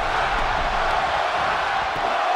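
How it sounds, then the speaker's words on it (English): A wrestling arena crowd roars and chants in a dense, steady wash of noise throughout, loud and continuous with no distinct individual voices standing out. "Crowd chanting one more time."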